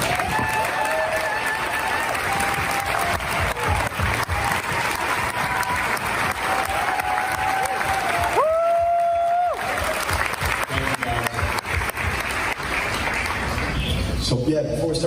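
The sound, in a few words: audience applause for people in the film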